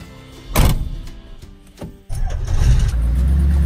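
An old 1938 Chevy street rod, with a brief mechanical whir and knock before the engine catches and settles into a low, steady idle rumble close by.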